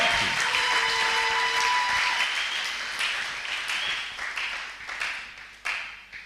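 A church congregation breaks into loud applause, a dense burst of clapping that thins out and fades over a few seconds, with a couple of sharp late claps and no speech over it.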